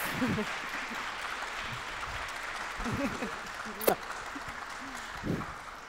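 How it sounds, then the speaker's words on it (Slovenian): Audience applause at a women's business conference as the host is invited to the stage, a soft, steady patter of clapping with voices speaking over it and a sharp clack partway through. "Dajmo en aplavz."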